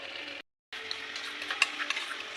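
Chicken with yogurt bubbles gently in a pan with a soft sizzle while a spoon stirs it, broken by a brief silent gap before the quiet simmering and scraping return.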